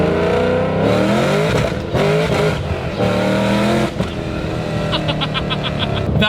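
A 750 hp Shelby GT500 Super Snake accelerates hard in first gear with a loud, close engine roar. The pitch sweeps upward in repeated surges with brief breaks between them, and no one speaks.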